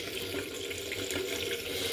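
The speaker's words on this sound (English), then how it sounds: "Water running fine." Water runs steadily from a kitchen sink tap, a continuous close splashing hiss with no voices.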